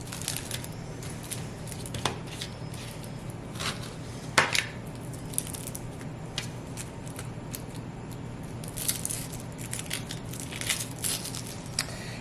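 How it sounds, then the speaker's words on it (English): A knife chops through an onion on a cutting board, with irregular crisp cuts and taps, some sharper knocks, quiet and close, with no talking. "We're going to just chop up an onion."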